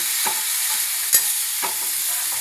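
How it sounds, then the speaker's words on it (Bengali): Meat being stirred in a frying pan for a Bengali curry, a continuous hiss of sizzling oil broken by a few distinct scrapes and knocks of the spatula, no one speaking. "একটু এইভাবে নেড়ে চেড়ে সুন্দর করে নেড়ে চেড়ে দেবো"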